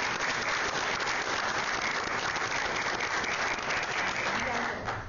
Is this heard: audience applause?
yes